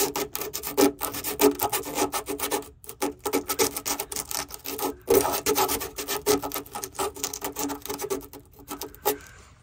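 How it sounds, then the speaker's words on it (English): Sanding the top coat of paint off a van body, a steady abrasive rubbing and rasping with rhythmic back-and-forth strokes and brief pauses, close and fairly quiet, with no talking. "we're just gonna sand the top coat of paint"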